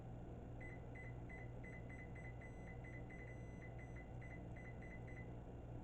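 A multimeter beeping during a continuity test, a rapid string of short, evenly spaced electronic beeps repeating for several seconds over a low, steady background hum, clear but not loud, with no talking.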